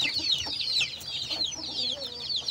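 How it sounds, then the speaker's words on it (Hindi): Desi chickens cluck and chatter continuously nearby, a busy overlapping stream of short high calls from a flock. "हमारे पास बहुत देसी मुर्गियां हैं, हम देसी मुर्गी पे काम करते हैं।"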